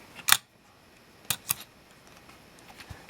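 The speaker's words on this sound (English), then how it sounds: "And so then the shutter will operate with the mirror out of the way." A Minolta SR-1s film camera fires its shutter with the mirror locked up: a crisp mechanical click, followed by two quick clicks about a second later, close and alone in a quiet room.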